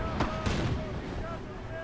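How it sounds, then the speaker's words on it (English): A big off-map artillery shell hits in Company of Heroes, with two heavy booming impacts close together near the start and then a low rumble that fades under steady battle noise. "Wow, that was a big artillery hit. Smacked straight into it. That was, must have been off-map artillery."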